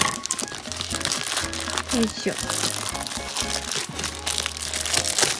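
Package wrapping crinkled and crunched while being opened, a near, continuous rustle with rough tearing bursts, heard under a person talking.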